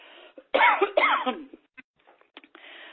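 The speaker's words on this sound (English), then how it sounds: "Excuse me, I'm going to cough." A couple of close, sharp coughs in quick succession, followed by faint throat noises and small sounds in a quiet room.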